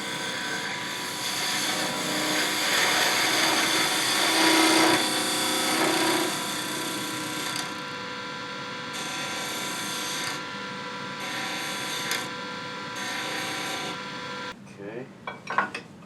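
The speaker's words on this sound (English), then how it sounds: "now I'm going to use a spindle gouge. Kind of do some final trimming there on the corner." A spindle gouge, 3/8 inch, trims the corner of a wooden tool handle spinning on a lathe, giving a steady, loud whirring hum with scraping cuts that rise and fall, then fades into quieter handling noises at the end.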